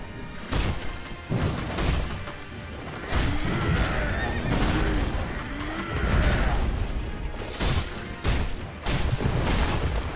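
Horse neighing and whinnying in the video game Sekiro, loud and repeated, with hooves clip-clopping and heavy impact crashes from combat in between.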